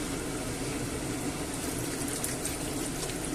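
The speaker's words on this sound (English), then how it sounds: "Whoa, splashing everywhere." Chicken stock pours steadily into a pot of carrots and potatoes with a continuous splashing, gushing rush, close and fairly loud for a few seconds.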